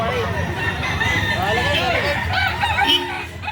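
A young rooster (stag) at a chicken market crows nearby, its long wavering call rising and falling over a background of clucking fowl and market chatter, with people talking throughout.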